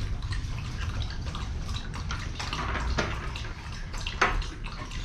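Water on a rural hillside farm where a dog wades and soaks: continuous wet sloshing with scattered drips and a couple of sharper splashes, close by, with no talking.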